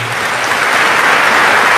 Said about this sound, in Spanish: Démosle un fuerte aplauso pues a este hermano.